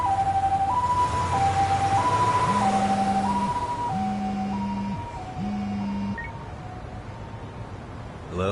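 Ambulance siren in the video game Lost Judgment, a two-tone wail alternating steadily between high and low pitches, gradually fading as it moves away, with a low horn-like tone pulsing beneath.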